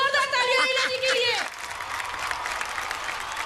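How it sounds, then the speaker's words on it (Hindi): A TV show studio audience breaks into applause right after a voice speaks. The steady clapping carries on and fills the rest of the moment. "एक बार जोरदार तालियां ईला जी के लिए।"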